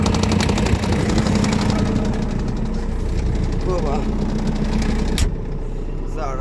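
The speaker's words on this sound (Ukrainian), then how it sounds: "Так, все, я під'їжджаю." A farm vehicle engine drones steadily and loudly as it drives up to load ammonium nitrate for a wheat top-dressing run with a Jar-Met 500 spreader. The low, even hum holds for about five seconds, then drops abruptly to a quieter idle.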